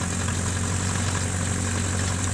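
A homemade tractor's engine runs steadily in winter, a loud, close, continuous low rumble with even throbbing and a mechanical hum, no voices.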